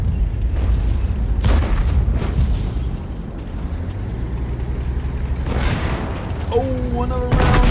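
Tank cannon fire in the World of Tanks video game from a Type 5 Heavy and a WZ-111 model 5A, heavy booming shots with rumbling tails, a couple of distinct blasts spread across the clip under a commentator's talk.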